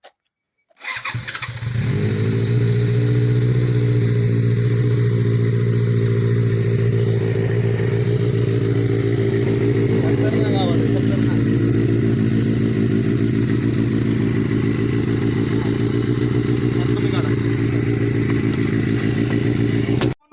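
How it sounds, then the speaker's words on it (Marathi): A four-cylinder 600cc motorcycle engine starts with a sudden burst and then runs loudly and steadily, a smooth, even multi-cylinder drone close by, with no speech. "तुम्हाला ही फायरिंग ऐकू हे 4 सिलेंडर आहे"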